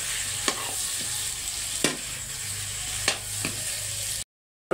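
Fried potatoes are stirred into chicken curry in a pan, giving a steady close sizzle punctuated by four or five spatula scrapes, then a sudden cut to silence.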